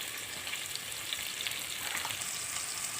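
Green chillies fry in hot oil, a steady, soft sizzle and crackle with no talk over it.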